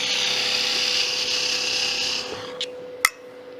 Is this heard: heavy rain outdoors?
no